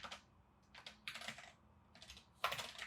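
Keys clatter on a computer keyboard in quick, uneven bursts of close, crisp taps with brief gaps between words.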